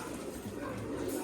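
A domestic pigeon in a fancier's loft, one of them in moult, gives a short, low, throaty coo close by, with faint murmuring in the background.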